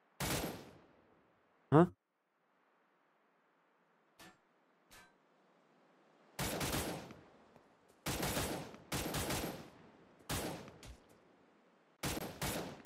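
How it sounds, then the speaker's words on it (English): Weapon fire in the mobile shooter Cyber Hunter comes in short, sharp bursts of rapid shots separated by quiet gaps, with a few isolated single cracks and a brief spoken word. "Now let's try firing a weapon."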